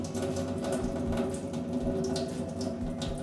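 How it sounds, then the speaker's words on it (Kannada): Water drained from soaked lentils runs and trickles steadily, a continuous close-up pouring sound with no talking. "ಬೇಳೆಯಲ್ಲಿರೋ ನೀರನ್ನು ಬಸ್ತು ತೆಗಿತಾ ಇದ್ದಾನೆ"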